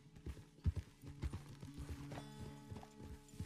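Horse hooves clip-clop at a steady walking rhythm in the video game Red Dead Redemption 2, a series of close, distinct thuds continuing throughout under a soft ambient music bed.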